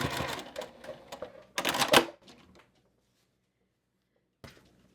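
A sewing machine stitches quilt block rows in short bursts of rapid mechanical chatter, separated by a pause and ending with a brief restart, close and fairly quiet with no talking.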